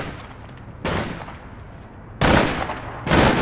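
Video game gunfire in an online shooter, three loud broadband bursts separated by quieter gaps, the second the longest, with a low rumble underneath.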